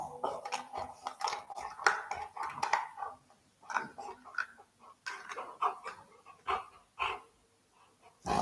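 A dog barks and whimpers in a short burst of repeated yaps close by, the calls coming in uneven clusters with brief pauses, alongside faint clinking like dishes and cutlery in a room.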